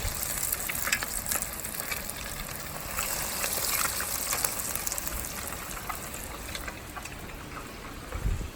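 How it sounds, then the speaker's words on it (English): A steady, bright sizzle of fish frying in oil in a frying pan fills the whole stretch, crackling continuously at moderate level with no talking. "we'll get the fish and we'll put it one by one into the frying pan"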